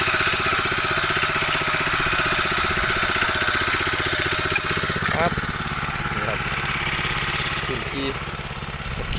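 An old Japanese mini tractor engine chugs steadily and loudly with a fast knocking rhythm while plowing under weeds in corn rows, running close by throughout with faint voices underneath.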